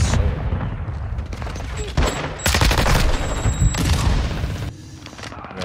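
Video game gunfire in a multiplayer shooter, dense overlapping bursts of rapid shots and booms lasting several seconds, loud and continuous with a player's voice mixed in.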